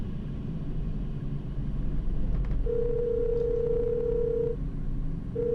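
A steady electronic phone call tone from the indie video game Cold City plays as a single long sustained beep, followed by the start of another, over a dense low background hum with no talking.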